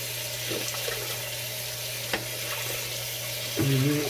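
Tap water running while a razor is rinsed after a shave with Proraso Green cream, a steady close hiss with brief clicks and a louder splash near the end.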